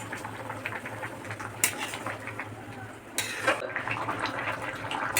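A pot of pumpkin stem, potato and shrimp curry bubbles on the boil in a low, steady simmer, with a few sharp clinks of a utensil against the pot, close by.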